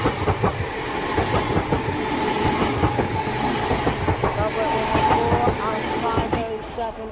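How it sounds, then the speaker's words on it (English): A British Rail Class 507 train rumbles past a level crossing with steady clattering wheels and mechanical noise, continuous and fairly loud, with some voices faintly underneath. "That is our final train of the day"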